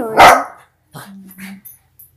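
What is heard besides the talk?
dog barking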